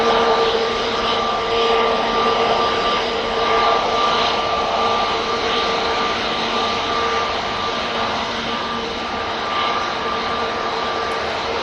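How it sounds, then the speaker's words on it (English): A Ryanair jet airliner bound for Dublin taxis onto the runway at Manchester Airport, a steady loud engine roar with a whining tone that holds evenly throughout, no speech over it. "the Ryanair to Dublin is now coming on"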